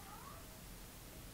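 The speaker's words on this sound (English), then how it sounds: "My cat's talking." A pet cat meows briefly near the start, one short close call heard faintly over a quiet room with steady background hiss and no talking.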